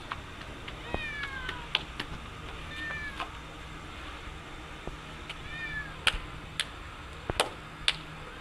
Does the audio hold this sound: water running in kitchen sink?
no